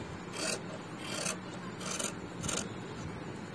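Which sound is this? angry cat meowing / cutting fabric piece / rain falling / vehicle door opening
cutting fabric piece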